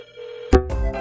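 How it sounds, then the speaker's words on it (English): A telephone in the Rust video game gives one short ring that starts loud and abruptly, close and alone. "we're gonna call this phone here"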